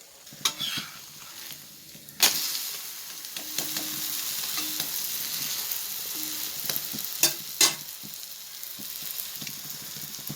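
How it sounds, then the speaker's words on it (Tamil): Wheat and jaggery appam batter fries in hot ghee with a steady, close sizzle, broken by a few sharp stirring and scraping clicks of a utensil in the pan. "நெய்யிலே சுடும்போது டேஸ்ட் அருமையாக இருக்கும்"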